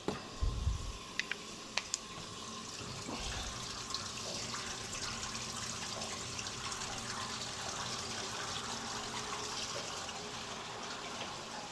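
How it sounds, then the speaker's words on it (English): Water running steadily into the tank of a cask washer, a continuous gushing fill with a few light clicks near the start and no talk. "Right, let's get some water in."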